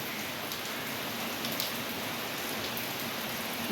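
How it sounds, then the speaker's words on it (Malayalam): Heavy rain falls steadily and densely on surfaces, making a continuous hiss with occasional close drips. It is alone, with no voices over it. "എപ്പോഴും ഇങ്ങനെ മഴയാണ് കണ്ടോ, എപ്പോഴും മഴയേ ഉള്ളൂ. നോക്ക്, മൊത്തം മഴ മഴ മഴ മഴ."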